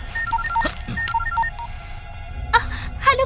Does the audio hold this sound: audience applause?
no